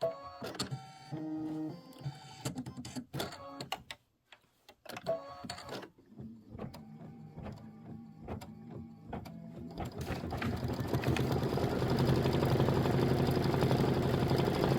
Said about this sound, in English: I'm just going to rethread. And just finish this outline stitch.